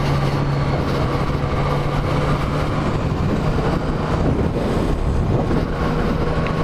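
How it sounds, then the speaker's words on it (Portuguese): A Yamaha MT-09 motorcycle climbs a mountain road on the BR-040 serra, its engine a steady, loud drone buried in constant rushing wind noise, with no pauses or talk. "vibe da moto, cara, é muito boa."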